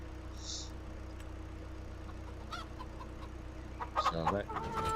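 Chickens clucking near a coop in Farming Simulator 25, with a low steady engine hum beneath; a short burst of clucks rises loudly near the end over the continuous drone.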